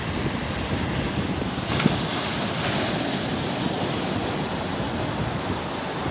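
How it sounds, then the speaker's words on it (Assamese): Steady broadband wash of sea waves breaking on Puri beach along the Bay of Bengal at sunrise, a continuous roaring surf with no distinct breaks, fairly loud and alone without voices. "সাগৰৰ ঢৌটো কিমান ধুনীয়া লাগে এই দৃশ্য"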